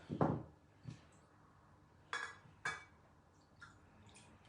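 Small splashes and drips of water land in a little pot used for rinsing paint brushes, a handful of short, quiet pours and taps spaced apart in an otherwise still room.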